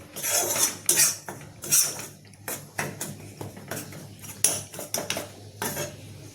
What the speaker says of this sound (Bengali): লবণ দিয়েছি, এটাকে ভেজে নিচ্ছি।